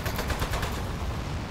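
Weapon fire in the Aperture Desk Job video game, a fast run of shots heard fairly quietly with an even, rapid rhythm that blurs into a steady rattle toward the end.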